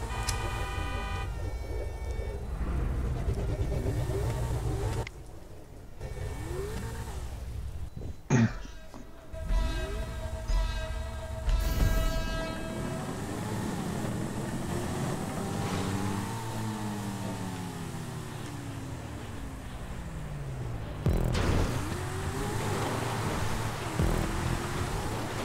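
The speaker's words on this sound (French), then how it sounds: "Ça drift. Oh oui, sur le sable comme ça." A Jester or Jugular car drifting on sand in GTA 5 on PC during a parkour run, engine tones sweeping up and down with repeated revving arcs, abrupt cuts and game noises throughout.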